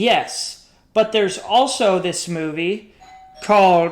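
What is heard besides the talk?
doorbell ringing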